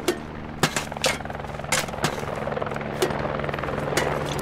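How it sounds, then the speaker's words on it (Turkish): Helicopter in the video game Squad, a steady rotor and engine drone running throughout, with sharp intermittent bangs like gunfire breaking over it. "Helikopter."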